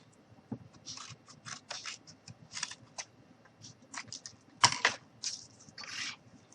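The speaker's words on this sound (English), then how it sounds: "So I'm just going to go ahead and cut out another strip." Scissors snip through a strip of cardboard in a quick run of crisp, close cuts, with a few sharper clicks of the blades closing, in a quiet room with no talking.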